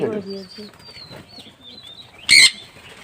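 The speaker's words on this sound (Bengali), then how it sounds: "পায়রা কতটা সুস্থ আছে দেখুন আর দানা খাবারটা কেমন মনোযোগ দিয়ে খাচ্ছে" Pigeons being fed grain make soft cooing murmurs and faint calls, then a short loud burst of wing flapping near the end.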